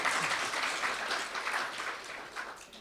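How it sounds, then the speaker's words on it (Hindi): An audience in a welcome session claps together in a steady, dense patter of applause, somewhat distant and soft, lasting a few seconds. "भले ताली बजाओ।"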